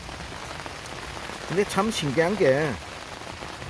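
Steady rain falls on a pepper field, heard as a constant close patter under someone talking in the middle of the stretch.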